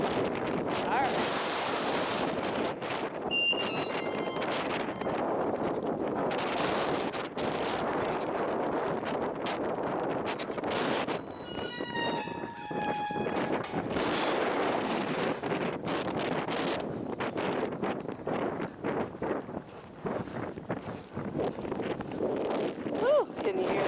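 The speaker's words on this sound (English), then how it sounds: "can you hear that wind?" Strong wind gusting across a goat farm, a loud continuous roar and buffeting against the microphone that lasts throughout, with people talking beneath it.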